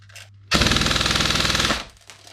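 LCT G3A3 airsoft rifle firing a rapid full-auto burst of BBs fed from a Tokyo Marui magazine, about a second of loud, fast, even clatter, alone with quiet before and after.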